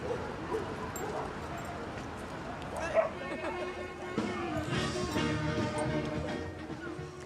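Dogs yip and bark amid a crowd during a festive year-end dog walk through the streets of Madrid, with a voice talking over them throughout and barks scattered and moderately distant.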